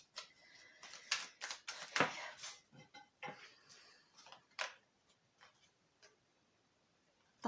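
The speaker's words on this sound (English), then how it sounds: "I've been told to just carry on shuffling." Tarot cards shuffled by hand, a run of crisp riffling clicks and soft slaps in quick bursts, close and fairly quiet, thinning out toward the end with only a few isolated taps.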